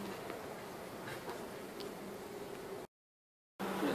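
Soft, steady hum of a calm queenright honeybee hive, a low droning buzz close by that runs evenly, briefly cut to silence before resuming.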